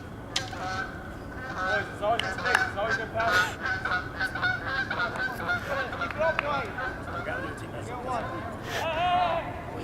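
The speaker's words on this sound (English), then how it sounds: "We have Geese behind us here at Valeo." Geese behind a youth soccer field honk repeatedly in loud, overlapping calls close to the listener, mixed in with nearby voices.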